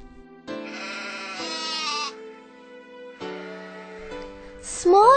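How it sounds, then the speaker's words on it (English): A young goat bleats several times in drawn-out, wavering cries with short gaps between them, loud and close, with no other sounds around it. "A young goat is called a kid."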